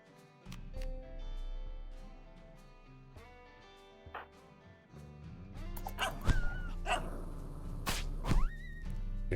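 Dogs barking in a video game, a few sharp yips and barks scattered over sustained game music and sound effects, growing busier toward the end, with no speech.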